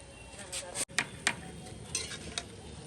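Chicken being stirred in a pot over a wood fire on a rooftop, with a spoon scraping and clinking against the pot in short, irregular strokes over a soft sizzle.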